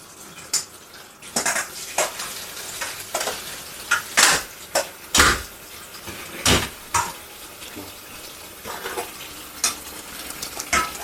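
Dumplings from chicken soup are scraped and knocked about in a metal strainer, irregular clinks and scrapes close up with watery sizzling between them.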